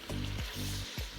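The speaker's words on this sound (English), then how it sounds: "Stir and fry the lamb shanks in garlic and ginger paste till the color changes." Lamb shanks sizzle in garlic and ginger paste, a steady hiss of frying with a few soft stirring scrapes in a brief moment.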